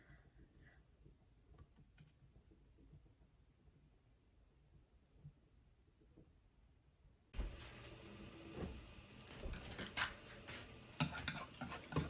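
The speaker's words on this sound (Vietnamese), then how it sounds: "mình bỏ mình chiên nhá mọi người" Dried rice crust for Vietnamese cơm cháy is dropped into hot oil in a pan, bringing a sudden loud burst of dense sizzling and crackling that continues steadily after a quiet lead-in with faint kitchen clicks.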